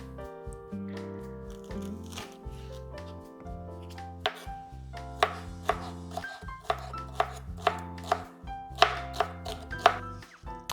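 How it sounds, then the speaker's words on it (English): A knife chops sliced jalapeno on a cutting board, making a run of sharp, close taps that grow more regular and pronounced toward the end, set over steady background music. "Then I'm just gonna cut the same way to get rid of the seeds."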